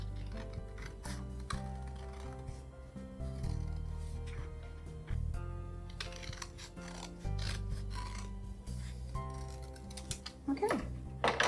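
Scissors snipping through black construction paper while making Halloween bat wings, soft repeated cuts and rubbing under a talking voice with background music.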